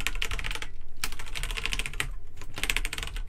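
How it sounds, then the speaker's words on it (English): A hand mashing many keys at once on a computer keyboard, producing dense bursts of clattering keystrokes in rapid clusters with brief pauses between, loud and close, no talking. "I just put my hand over my entire keyboard."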